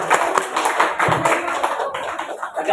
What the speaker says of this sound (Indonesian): mari kita sambut Bapak Zul Emri dengan tepuk tangan yang luar biasa